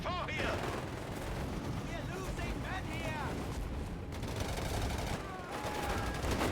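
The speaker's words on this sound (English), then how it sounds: "And there you go, delayed fuse barrage." A delayed fuse artillery barrage explodes in Company of Heroes 3, a dense, continuous roar of blasts and gunfire with whistling shells over a constant loud battle din, with a voice talking over it.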